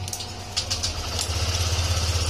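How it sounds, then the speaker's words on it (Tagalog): A motorcycle engine idles and warms up after a leak repair, a close, steady low rumble with a regular pulsing beat and a few brief higher clicks near the start. "Tapos painitin natin yung makina para dyan natin makita kung magli-leak pa rin."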